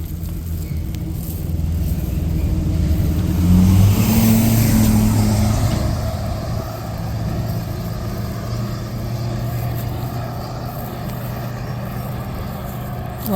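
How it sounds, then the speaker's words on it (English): Big trucks and heavy equipment rumble along a road under reconstruction near Hot Springs on the Appalachian Trail. A deep, steady engine drone swells as a loud vehicle passes close by, then settles back into continuous traffic noise. "A lot of big trucks, big equipment."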